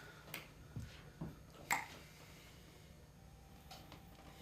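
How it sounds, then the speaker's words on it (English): A few faint finger snaps pop out of a quiet room, four or five isolated clicks spaced unevenly over a few seconds with no talking. "Just snap your fingers in the air."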